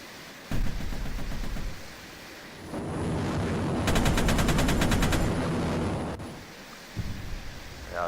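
A Su-35S jet in Arma 3 fires its 30mm cannon in a loud, rapid burst of heavy thuds lasting a few seconds, with a roaring rush of noise around it and quieter bangs before and after.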